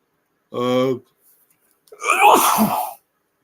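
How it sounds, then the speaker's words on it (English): A voiced intake sound is followed by a loud, sharp burst of air, a single sneeze close to the microphone. "I had to sneeze there"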